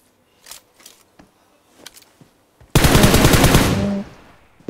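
Sustained automatic gunfire from a shooter video game erupts loudly and fills nearly two seconds with a rapid burst before tailing off, preceded by scattered faint clicks and short bursts.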